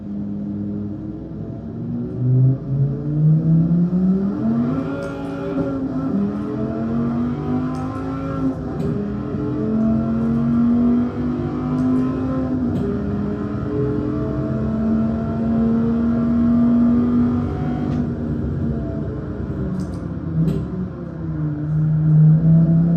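A 2003 Dodge Viper SRT10 engine in Gran Turismo 7 revs loudly and continuously, its droning tone climbing and falling through repeated accelerations and gear changes, close and alone.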